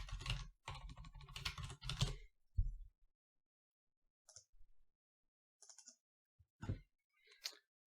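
Column headers typed into an Excel sheet on a computer keyboard: a dense run of close key clicks at first, then scattered isolated keystrokes separated by silence.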